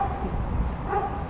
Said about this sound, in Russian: Злые собаки.